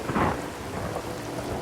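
Thunder rolls in with a low rumble at the start while heavy rain falls steadily underneath, a full stormy downpour that continues after the rumble fades.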